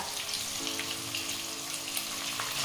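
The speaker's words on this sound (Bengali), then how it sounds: "এবারে পেঁয়াজ আদা রসুন ভালোভাবে একটু তেলে নেড়ে চেড়ে নেব" A paste of onion, ginger and garlic frying in oil makes a steady, fairly faint crackling sizzle, close by and unbroken, with no voices.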